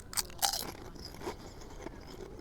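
Potato chips crunched while eating alongside a greasy pastrami sandwich at a deli, giving a few sharp, close crunchy bites early on, then softer chewing crackles tapering off.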